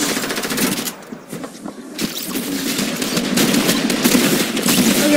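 Assault rifle fire in the Fortnite video game: dense, rapid bursts of automatic gunfire that continue loudly through the clip, mixed with other game sounds.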